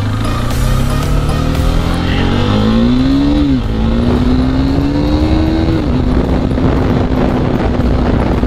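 A 2022 KTM RC 390 motorcycle engine running in first gear, loud and close, its pitch rising and shifting through the clip under a constant noisy roar.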